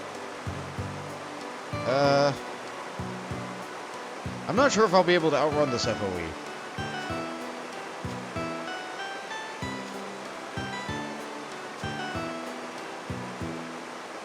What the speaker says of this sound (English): The waterfall noise just kicks right in.